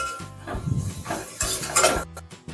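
Chopped green chillies go into masala frying for a Kashmiri chicken curry, with sizzling and a spoon scraping and clinking against the pan in short, close bursts of stirring.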